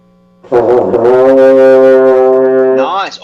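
A horn sustains a single low G during a music lesson, entering firmly after a brief quiet start and holding steady, full and close for about two and a half seconds before tailing off.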